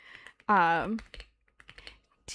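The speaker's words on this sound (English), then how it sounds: "If you can't tell, I'm typing something" Typing on a computer keyboard, scattered quick key taps that are fairly faint and close, with a brief drawn-out vocal sound near the start.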